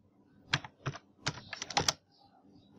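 Several quick bursts of key presses on a computer keyboard while entering numbers into an Excel spreadsheet, clustered clicks spaced by short pauses, close and fairly quiet.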